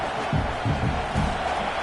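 Football stadium crowd at a Wisconsin versus Washington game roars as a dense, loud wash of noise, with low swelling surges pulsing under it.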